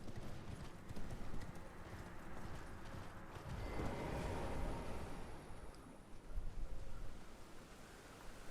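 Horse hooves clip-clopping in the video game Elden Ring, a continuous rhythmic patter of hoofbeats under a rustling, noisy ambience, steady and moderately close throughout.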